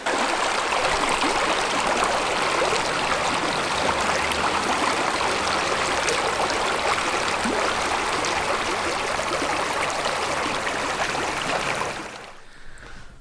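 A stream in France rushes in a steady, fairly loud broadband wash of flowing water, continuous until it drops away abruptly near the end.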